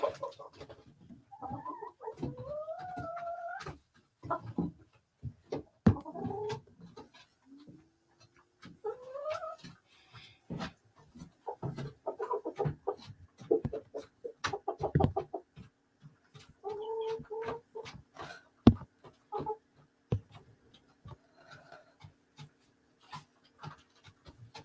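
A chicken makes scattered soft clucks and warbling calls over about twenty-five seconds, faint and close, with rustling and small handling noises between them.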